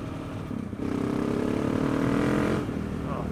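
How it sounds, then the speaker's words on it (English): KTM 690 Enduro R single-cylinder motorcycle engine running close by on a slippery off-road trail, a steady loud throbbing drone that swells around the middle and eases slightly near the end, with no talk over it. "can you hear that engine?"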